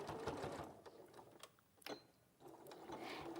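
A domestic sewing machine stitching fabric during a live quilting demonstration, running in quick mechanical bursts with a short pause in the middle, close and steady.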